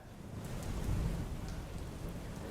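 Heavy monsoon rain in Valsad pours down steadily with a dense, even hiss and a low rumble underneath. No voices are heard.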